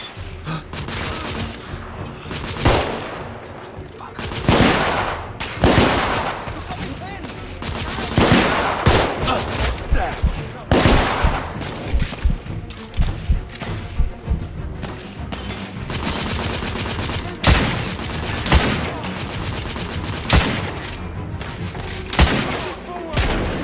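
Gunfire in The Order: 1886 video game: sustained, loud bursts of rapid shots and booming blasts with dense overlapping reports, with occasional voices mixed in.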